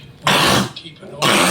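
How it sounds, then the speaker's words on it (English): A man coughs during a news report, two loud harsh coughs close up, separated by a short quieter gap, with no speech between them. "He done coughed 6 times since he been doing this report."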